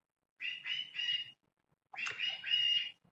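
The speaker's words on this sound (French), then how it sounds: "c'est dur d'engueuler un oiseau" Two bursts of bright, close bird chirps, a quick run of three calls, a pause, then a longer chattering series.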